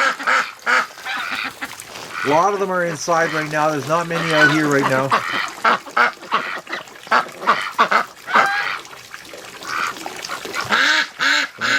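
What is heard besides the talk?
wintering ducks quacking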